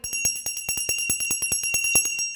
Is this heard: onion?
no